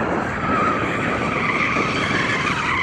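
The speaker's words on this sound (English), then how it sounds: "The next thing for us to do is to warm up our tyres." A BMW M240i does a burnout to warm its tyres before a drag race, producing a loud, continuous tyre squeal with engine roar close by and no pauses.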